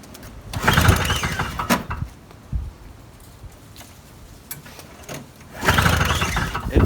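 An old snowblower engine at half choke sputters and catches in a loud rough burst, falls back to a quieter intermittent chugging, then roars again in a second burst near the end.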